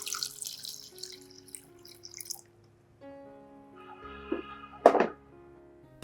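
Water runs and splashes into a container, with a few dripping and clunking sounds and a louder splash near the end.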